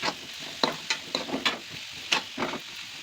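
Grated carrot frying in a pan for egg fried rice, with repeated scraping stirs at a steady pace over a soft sizzle, close and moderately loud, with no voices.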